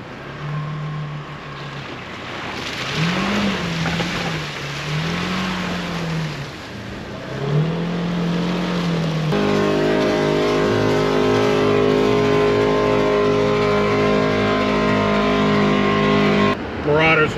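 A Polaris Ranger Northstar drives through deep snow and ice in a blizzard, its engine revving up and down and then settling into a loud steady drone, with a person talking over it.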